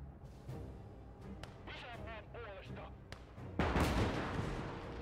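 Game battle sounds from Call to Arms Gates of Hell Ostfront: sharp cracks of gunfire and a heavy artillery blast toward the end, mixed with whistling and a player talking over the combat.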